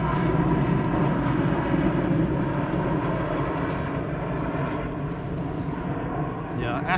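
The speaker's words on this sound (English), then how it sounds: "Hold on, we got a plane coming over." A low-flying plane passes overhead above Lake Talquin on a cold, windy day, its deep droning engine loud and steady throughout before easing slightly toward the end.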